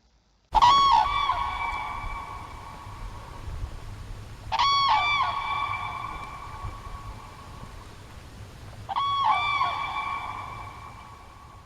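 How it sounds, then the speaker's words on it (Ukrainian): Three loud, trumpeting calls of a common crane, evenly spaced and ringing out alone against a quiet background. "Давайте послухаємо, які звуки видає журавель."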